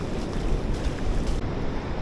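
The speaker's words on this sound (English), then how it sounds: "water just cranking out of here" Water rushes out across a Brazilian beach below colorful cliffs at low tide: a continuous broadband wash mixed with gusty wind buffeting the microphone, with no speech.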